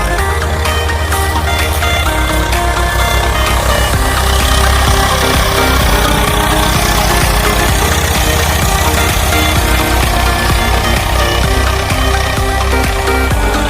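A tractor-driven mobile cotton stalk shredder runs in a cotton field, giving a loud, steady mechanical engine drone with constant vibration throughout and no voices.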